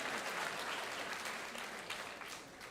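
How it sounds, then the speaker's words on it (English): School assembly audience clapping for a new bus driver, a dense wash of many hands applauding in a large room, steady at first and fading slightly toward the end, fairly soft overall. "so claps for him"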